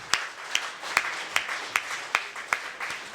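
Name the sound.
audience applause at a poetry recital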